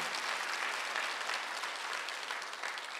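A church congregation claps together during a Sunday worship service, a full, even burst of applause from many people lasting a few seconds with no voices on top.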